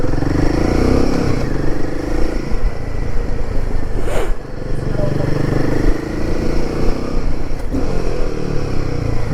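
A Royal Enfield Himalayan 450 motorcycle engine revs through a rev-matched downshift, its steady near exhaust drone swelling briefly mid-ride beneath continuous wind rush and a rider talking over it.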